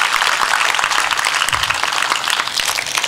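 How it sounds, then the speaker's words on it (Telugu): A crowd at an outdoor Christian gospel meeting in Balusupadu claps loudly and continuously, a dense, even roar of applause with no talking over it. "వారి కొరకు ఒకసారి గట్టిగా క్లాప్స్ కొడదాం."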